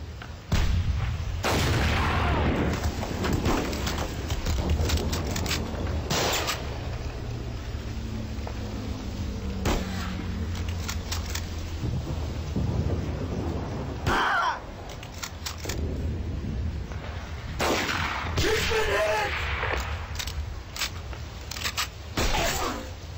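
Grenade explosions in Mud & Blood 2 war game: several loud booming blasts scattered across the stretch, separated by rumbling battle noise and bursts of gunfire, with no talking.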